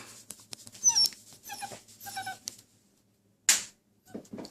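A new puppy gives a string of short high yelps and whimpers up close, broken by brief pauses and one sharp louder squeal, with no talking.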